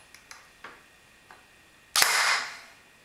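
An ARES Amoeba CCP airsoft pistol fires a single shot: a few faint clicks and handling taps lead up to one sharp, close pop followed by a brief hissing tail, with no talking.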